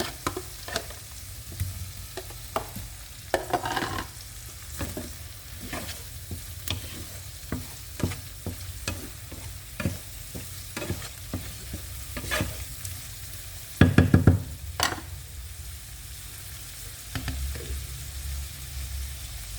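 Shrimp (chingri) sizzle in a hot pan for a pui shak dish, with sharp clacks from a utensil stirring against the pan and a denser burst of frying noise partway through.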